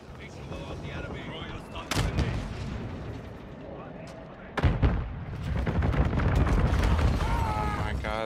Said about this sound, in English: Vulture 6-1. Bombing run is inbound. Danger close.